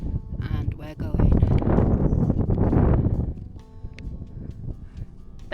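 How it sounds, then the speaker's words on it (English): Strong gusts on an exposed hiking ridge batter the microphone, swelling into a loud rumbling roar mid-clip before easing back to a lower buffeting under a voice. "Very windy indeed today."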